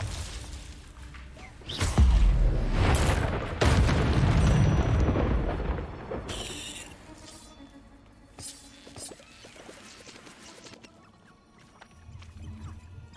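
A Bombarda blasting spell in Hogwarts Legacy goes off as a series of loud explosive booms and shattering crashes early on, then fades into scattered debris and quieter combat noise.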